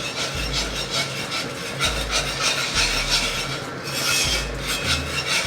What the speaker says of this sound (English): Start whisking a little bit at a time.